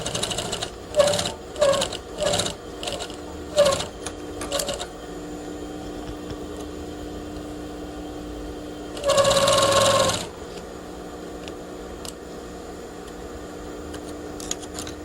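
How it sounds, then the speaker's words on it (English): A sewing machine top stitching a pocket on a garment, fast rhythmic needle bursts in several short runs followed by one longer steady whir, close and clear with no talking. "top stitching is perfectly acceptable"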